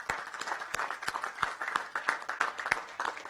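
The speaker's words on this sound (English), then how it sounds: "Let's give them a round of applause." Audience applause in a county council chamber after a proclamation is signed, a brief moderate burst of many hands clapping at a steady brisk rhythm.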